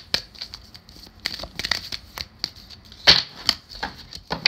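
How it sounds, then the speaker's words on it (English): Tarot cards being shuffled by hand, a run of crisp riffling snaps and papery rustles in uneven bursts, close and fairly loud with no talk. "This one flew out as I was shuffling"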